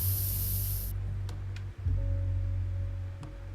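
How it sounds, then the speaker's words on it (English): A short hiss of pepper spray in the video game This Is The Police 2 sprays for just under a second, then cuts off, leaving a low steady game hum with a few faint clicks. "let's use the pepper spray then, since she doesn't have a baton"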